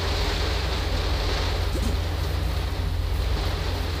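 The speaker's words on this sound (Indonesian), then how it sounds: "Hujan lebat nih di sini." Heavy rain pouring down outdoors, a steady dense hiss with a deep continuous rumble, loud and unbroken throughout with no clear voices.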